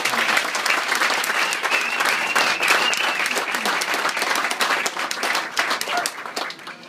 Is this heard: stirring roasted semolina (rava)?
no